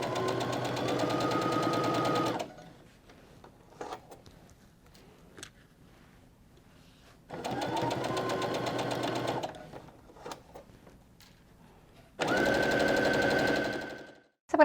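A sewing machine stitches a quilt seam on a strip-pieced quilt in three loud, rapid bursts, with quiet pauses of small handling clicks between runs.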